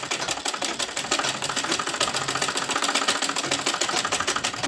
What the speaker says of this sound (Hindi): इसके ऊपर इस तरह से सिलाई लगाएंगे इस तरह